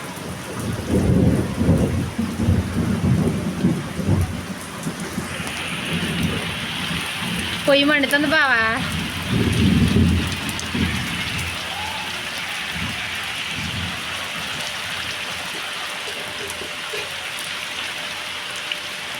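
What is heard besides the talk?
heavy rain and thunder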